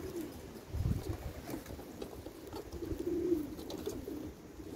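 Yearling racing pigeons of the Lada, Fineke 5000 and W. Gockel lines coo faintly in a loft, low murmuring phrases repeating at a distance with no talk.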